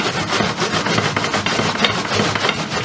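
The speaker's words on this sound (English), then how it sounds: "Just grating it, just to season my minced beef." Onion rasped on a kitchen grater to season minced beef for meatballs, a steady, dense scraping rhythm of rapid strokes, close and fairly loud with no talking.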